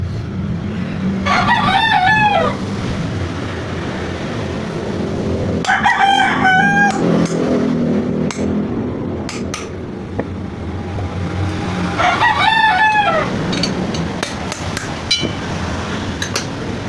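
A rooster crows three times at a workshop where a car's rubber bushings are being fabricated, each crow a clear rising-and-falling call over steady background noise.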